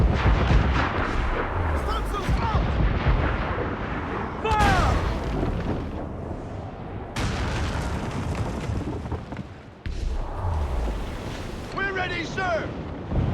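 Ship cannons fire in Assassin's Creed IV: Black Flag, with heavy booming blasts and rumbling bursts over wind and sea noise, while voices shout in the middle of the battle.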